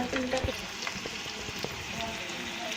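Turkish sujuk kebabs fry over a medium-low flame in a pan, giving a steady close sizzle and crackle with scattered small pops, while a voice talks over it.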